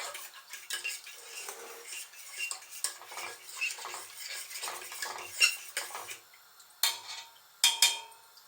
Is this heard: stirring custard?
yes